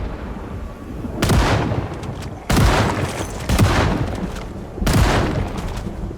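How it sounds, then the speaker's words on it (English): Shotgun blasts fired at a group of zombies in the video game Project Zomboid, three loud booming shots about two seconds apart, each trailing off into a rumbling tail with no talk over them. "Let me go shoot off the shotgun and we'll take care of this group then"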